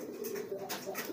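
Pigeons coo in low, soft, repeated murmurs, steady and fairly close, during attempts to get a stubborn pigeon to lay eggs; no voices are heard.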